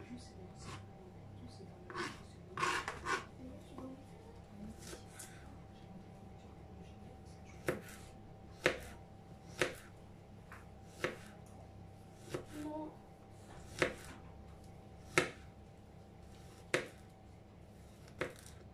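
A knife chops garlic on a board: a steady run of sharp, separate taps, close but fairly quiet, spaced about a second apart against a low hum.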